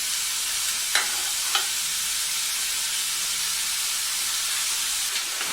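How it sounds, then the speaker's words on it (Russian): Chopped onions frying in oil in a pan give a steady close sizzle and hiss, with two or three brief soft stirring scrapes rising above it. "И высыпаем наш лучок. Лучок нажарим до золотистого цвета."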